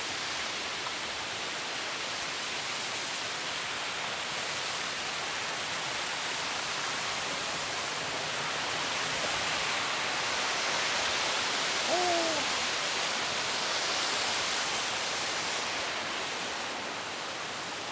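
A steady, loud rush of falling water at the entrance of Tham Nang Aen cave in Thakhek, Khammouane, Laos, broad and constant, with a brief faint call briefly rising above it.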